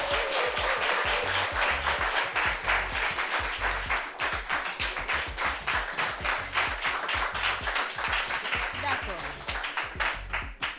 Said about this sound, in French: On applaudit pour Aïri Marie-Hélène.